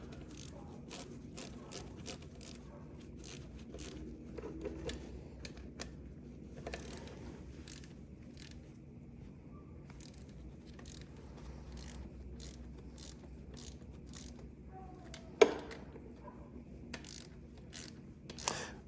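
Fine clicking of a ratchet snugging bolts on a 2009 Yamaha Raptor 700R water pump, in quick close bursts over a low background hum, with one sharper clink near the end.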